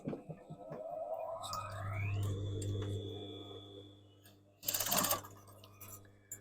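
A sewing machine stitches elastic onto tiered-fabric shorts: a steady mechanical whir rises in speed, runs continuously close by, then gives a brief louder burst before easing off.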